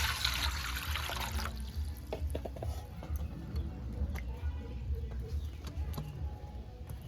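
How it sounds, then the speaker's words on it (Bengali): Mangoes being washed in water before roasting them for aam pora sharbat, a steady trickle and slosh of water with occasional soft splashes throughout, fairly quiet and close, no talking. "আমগুলো আগে আমি একটু ধুয়ে নিই"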